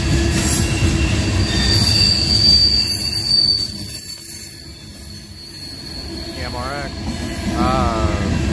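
A long Norfolk Southern freight train led by locomotive 4212, with tank cars and a mid-train Dash 9 helper unit, rolls steadily past nearby with loud, sustained high-pitched wheel squeal over the rumble of the cars.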